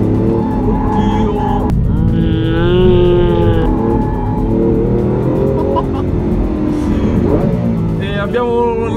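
A Lamborghini Aventador driven in sport mode, heard from inside with a loud, close engine roar, rising and falling revs with whining tonal sweeps as it accelerates, while passengers exclaim and talk over it.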